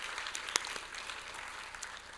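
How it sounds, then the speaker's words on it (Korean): Faint, scattered clapping from a forum audience welcoming a panel speaker, a light patter of hands at a distance with a few sharper individual claps. "박수로 맞아주시기 바랍니다"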